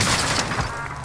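Dense gunfire in the Warzone battle royale game set in Verdansk, a loud burst of overlapping shots filling the whole moment with no pause.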